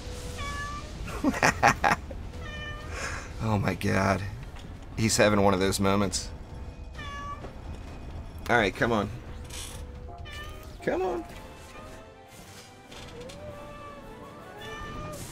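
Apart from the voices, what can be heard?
cat meowing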